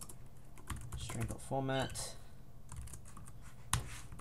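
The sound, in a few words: typing code on a computer keyboard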